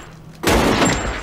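A single loud cartoon gunshot bursts from a played animated clip, starting abruptly and sustaining as a dense blast for most of a second.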